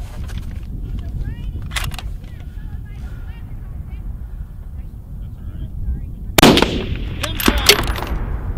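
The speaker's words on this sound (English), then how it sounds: "Nice shooting, Chris." Long-range rifle shots from an Accuracy International rifle at a shooting competition, sharp distant cracks late in the clip over steady wind noise and outdoor background.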